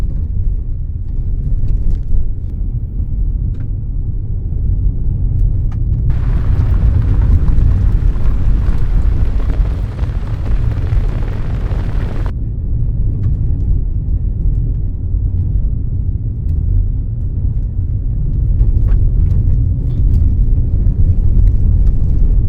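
A 2026 Chery Tiggo Cross Hybrid rolls over gravel with a loud, continuous low rumble and crunch, and a hissing wash of noise rises for several seconds midway.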